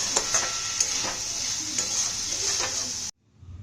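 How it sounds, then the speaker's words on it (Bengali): Sauce with a little added sugar being stirred in a pan over steady sizzling, with repeated scraping strokes of the spoon, then a sudden cut to near silence at the end. "এটাকে সামান্য নাড়বেন, নেড়ে জল দিয়ে সেদ্ধ করতে দেবেন"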